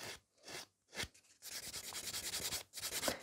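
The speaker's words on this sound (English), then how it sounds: "I'm buffing to the point when it's safe to buff it, so the glitter doesn't come off" Buffing a glitter gel nail surface with a nail buffer: close, soft rasping strokes, a few separate swipes at first, then a quick steady run of rhythmic rubbing, alone and quiet.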